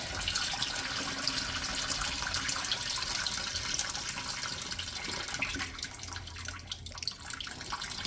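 Starchy, dirty water with potatoes being dumped into a half-stoppered sink, heard as a steady rushing pour and splash that thins and gurgles toward the end.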